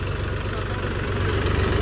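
A farm tractor idles nearby with a low, rapid, pulsing diesel chug, steady and unbroken, and no one talking.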